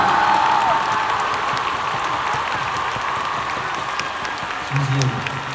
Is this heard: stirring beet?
no